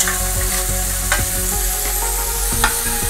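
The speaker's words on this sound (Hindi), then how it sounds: "इस तरह से चलाएंगे कि प्याज हमारी जले नहीं, सिर्फ प्याज पक जाए" Onions and green chillies sizzle steadily in hot oil in a pan while being stirred, with a loud close crackle, a low background hum and a few sharp utensil knocks.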